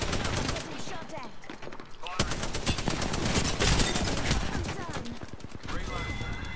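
Rapid bursts of automatic gunfire from weapons in the Apex Legends battle royale game, loud and near, rattling almost without pause over several seconds, with voices talking over the shooting.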